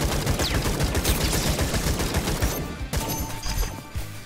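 Rapid, loud automatic gunfire in the video game Atomic Picnic, dense bursts of shots rattling almost continuously up close, with a short pause before firing resumes.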